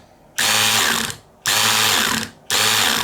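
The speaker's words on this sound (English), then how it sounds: "You can hear the clutch slipping, so it can't tighten that screw anymore" An electric screwdriver's clutch slips on a stripped plastic screw post in three loud, close bursts. Each is a harsh buzzing ratchet lasting about a second, separated by brief pauses.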